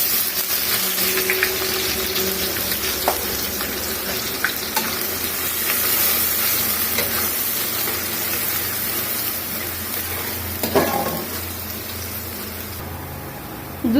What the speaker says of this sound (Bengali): এখন আমি এটার ভিতরে কিছু পেঁয়াজ দিয়ে দিব।